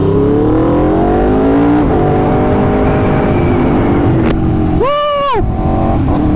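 A loud Aprilia RSV4 motorcycle with an aftermarket SC-Project CR-T exhaust and heavy, rumbling note idles and blips, then revs sharply once up and back down.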